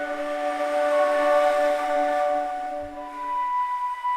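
Orchestral woodwind swells from a sample library with legato turned off, sustained airy tones with several layered pitches that rise and fade into one another, a higher line lingering near the end.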